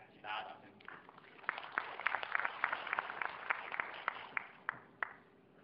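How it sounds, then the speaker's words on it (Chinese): A lecture audience at a university talk claps to welcome the speaker. The applause comes as scattered, moderately quiet hand claps mixed with some voice. "来，请大家掌声。"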